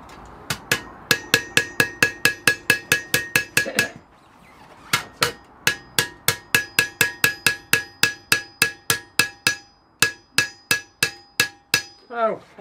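Metal hammering during tinsmith work, a steady run of sharp, ringing strikes in fast rhythm, broken by two short pauses, close and loud with no talk.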